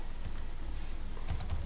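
Typing on a computer keyboard, a steady run of quick light key clicks close to the mic with no voices.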